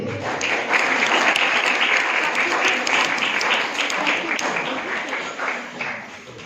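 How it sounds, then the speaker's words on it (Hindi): An audience at a Christmas gathering prize giving claps loudly and continuously, a thick wash of applause that gradually thins toward the end. "आइए जोरदार ताली दें"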